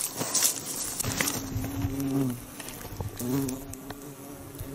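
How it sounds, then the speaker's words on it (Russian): Small flies buzz close by in a hot, muggy mountain camp after a thunderstorm, a wavering drone that rises and fades as they circle, steady and fairly loud, with no talking. "А маленькие мухи, они ведь ждут, когда прыснет кровь."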